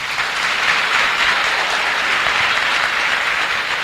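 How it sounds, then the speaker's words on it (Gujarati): An audience at a school event claps in steady, dense applause that carries loud and even throughout, without talk. "પાડો તાળી પાડો."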